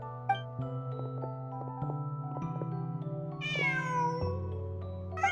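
A cat meows in the Genshin Impact video game, one drawn-out rising-and-falling meow heard over sustained soft background music, fairly close and clear.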